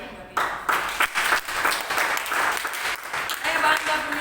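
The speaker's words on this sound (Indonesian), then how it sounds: "Tepuk tangan buat Tuhan." A church congregation applauds during a sermon, a steady wash of many hands clapping at moderate loudness for several seconds, continuous and fairly close.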